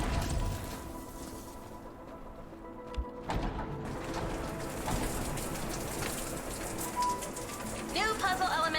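Steady downpour pours across a video game world in The Entropy Centre, a dense wash of rain noise running throughout with faint mechanical clicks and some bird-like chirps near the end.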